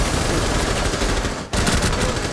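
Dense, rapid gunfire from a Rainbow Six match fills the whole moment, loud and continuous with a brief break halfway through before the shooting resumes.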